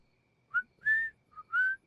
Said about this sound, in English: whistling is an excellent way to play music without using electricity